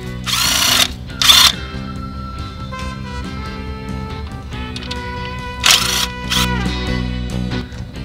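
A power drill with a 10 mm socket whirs in two short loud bursts near the start and again around the middle, removing bolts on a VW Gol 1.9 cylinder head, with quieter mechanical rattling and a steady hum between.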